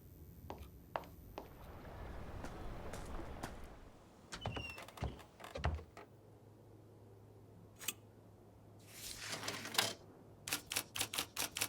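Typewriter keys clacking in the Murder in the Alps video game: scattered strikes early on, then a quick even run of sharp clacks near the end, fairly close and clear, with a low background hum and no talking.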